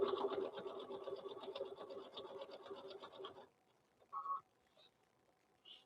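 A sewing machine runs along the edge of a t-shirt quilt with a rapid, steady mechanical chatter for about three and a half seconds, then stops, leaving quiet room tone with a couple of small clicks.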